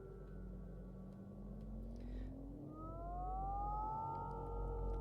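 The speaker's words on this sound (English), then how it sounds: "So this is actually from my little old school synth" Low droning synth tones with slow gliding pitches rising and bending over a rumbling background, quiet and eerie, with no voices.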